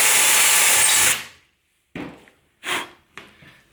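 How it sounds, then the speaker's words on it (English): A power drill whines loudly for about a second as it bores straight through, then stops, followed by a few short scraping and clattering bursts. "if you drill straight through,"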